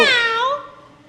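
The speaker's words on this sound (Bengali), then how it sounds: "কালো বিড়াল পথ আটকাচ্ছিস কেন" A single close, loud black cat's meow with a rising then drawn-out falling tone, fading away at the end.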